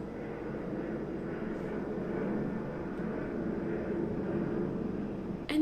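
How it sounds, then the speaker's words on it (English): An airplane drones overhead, a steady low rumble that holds evenly throughout, moderately loud and continuous, with no voices over it. "before I was interrupted by the plane, which is still somehow floating in the air right now"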